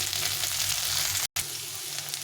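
Potatoes and ginger fry in hot oil in a pan, a steady close sizzle with a brief cut to silence midway, then the crackle resumes.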